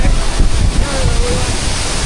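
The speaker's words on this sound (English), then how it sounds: "Look at the wind, how it's blowing." A waterfall roars in strong wind, a loud, broad, continuous rush with heavy gusts buffeting the microphone throughout.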